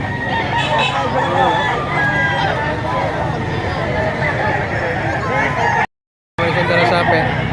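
Roosters crow repeatedly amid a busy Saturday gamefowl market in Lipa, Batangas, with many birds calling over steady crowd chatter and nearby voices talking, briefly cut to silence near the end.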